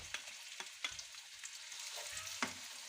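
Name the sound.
onions frying in leftover oil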